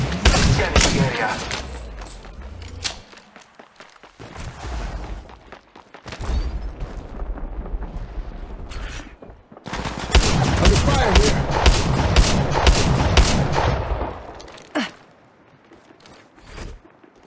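Gunfire exchange in Apex Legends Mobile: loud, dense rattling bursts of automatic fire in several clusters separated by short pauses, close and punchy, with occasional in-game voice lines between volleys.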